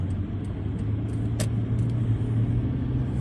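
A car drives along the South Super Highway at night after leaving Skyway Stage 3, giving a steady, unbroken low engine and road rumble from inside the cabin, with no one talking.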